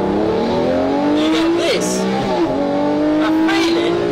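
A Lamborghini Murcielago LP640 accelerates at full throttle, its engine note climbing in a loud, sustained roar from inside the car, with a voice speaking briefly over it.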